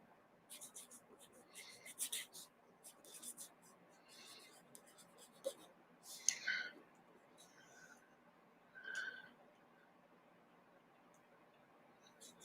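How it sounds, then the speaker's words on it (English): A pen scratches out a word on paper in short, faint strokes with small pauses between them, very close and quiet, with a few soft murmurs mixed in. "hopefully I write this word right"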